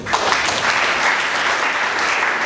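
A church congregation breaks into steady, dense applause, loud and continuous throughout with no voices over it.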